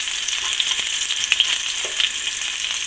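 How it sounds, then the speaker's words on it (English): Fish sautéing in hot oil with rosemary gives a steady, close sizzle and crackle, with small pops scattered through it and no voices. "I'm going to let it saute just a few minutes for that flavor to kind of infuse with the oil"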